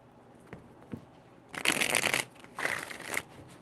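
A deck of tarot cards is riffled during a reading, two crisp, close shuffling bursts separated by a short pause.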